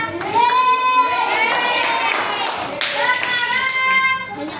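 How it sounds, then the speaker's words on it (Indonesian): Students in a classroom clap for two classmates, quick hand claps running beneath children's voices that call out together in a chanting, sing-song way. "Tepuk tangan buat berdua"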